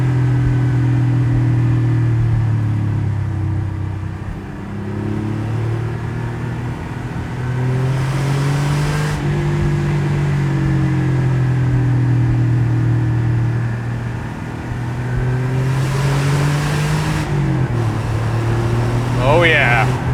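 Porsche 964 Cabriolet flat-six engine pulling steadily while driving top-down on an open road, a continuous low drone rising and falling with throttle and a brief shift, with wind noise and occasional talk over it.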